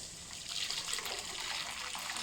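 Boiling water being poured from one cooking pot into a wider pot, a steady splashing trickle that swells slightly after the start and continues unbroken, close and fairly quiet.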